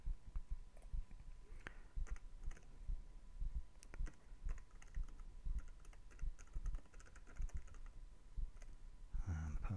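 A computer keyboard being used to key in a password, faint and close, with light irregular clicks and taps spread across the whole stretch and a slightly louder cluster at the end.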